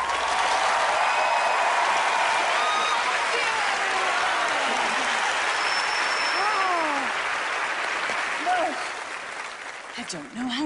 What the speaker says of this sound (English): you should clap. If not for me, certainly for Dr. Cooper and Dr. Einstein